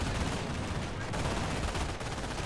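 A German MG42 machine gun in Company of Heroes rattles in continuous fast bursts, dense and steady across the whole stretch amid battle noise.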